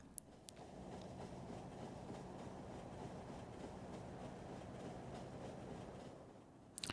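Steady rumble of a train rolling along in Factorio, a continuous low mechanical drone with faint rhythmic clatter, moderately loud and unbroken with no talking.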